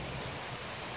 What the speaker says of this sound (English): Yep, rain's here.